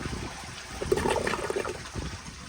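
A 2010 American Standard Baby Devoro toilet flushes during a performance test, giving a fairly faint, rushing gurgle of water that swells, then trails off into a trickle.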